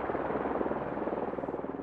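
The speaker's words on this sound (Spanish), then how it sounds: "el helicóptero de Wilhelm tiene permiso para aterrizar" A helicopter comes in to land at a Tokyo heliport after the March 11 disaster. Its loud, close rotor throb pulses steadily over a constant engine roar, with no talking.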